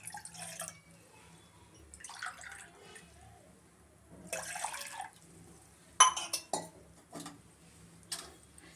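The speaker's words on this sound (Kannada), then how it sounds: "ಒಂದೂವರೆ ಗ್ಲಾಸ್ ನೀರು ಹಾಕ್ತಾ ಇದ್ದೀನಿ" Water is poured from a glass into a pot on the stove for masala tea, heard as close, intermittent splashes and drips broken by sharp clinks of metal cookware, with quiet gaps between.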